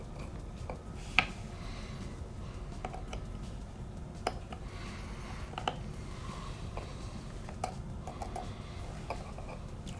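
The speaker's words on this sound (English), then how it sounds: "Just using tri-point screwdriver here to remove these screws" A tri-point screwdriver removing tiny screws from an iPhone XS during a repair, giving faint irregular clicks and ticks of metal against metal, close and quiet over a low background hiss, no talking.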